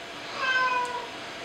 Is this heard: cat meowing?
yes